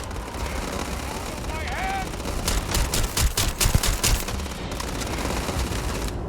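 A big shotgun fires in a loud burst of rapid shots in the video game Starfield, the booms landing in quick succession over a constant background of game noise and music.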